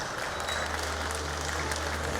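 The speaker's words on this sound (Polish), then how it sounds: "Ale brawa dla obu panów." Crowd applause at the close of a Silesian MMA 19 fight, a steady wash of clapping filling the venue without pause, moderately loud and even throughout.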